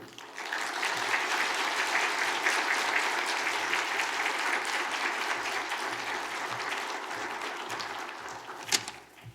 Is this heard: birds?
no